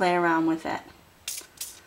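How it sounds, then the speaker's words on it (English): A spray bottle mists water onto a paper flower in two short hissing bursts right after a person finishes speaking. "I'm gonna spray it with some water"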